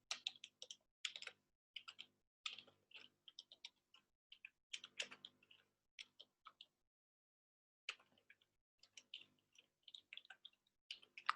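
Code being typed on a computer keyboard, quiet bursts of rapid key clicks separated by brief pauses, close and faint, with no talking.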